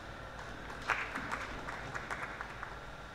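Audience applause following a presentation at a scientific conference on conserving the Mara River basin in the Serengeti: a steady, fairly faint wash of many hands clapping across the whole stretch, with a few louder claps standing out.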